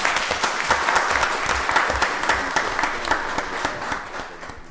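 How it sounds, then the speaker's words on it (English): Audience applause at a Rockdale County Board of Commissioners meeting: a full, steady round of clapping from a seated crowd that holds strong for several seconds and then eases slightly. "Give her another round of applause."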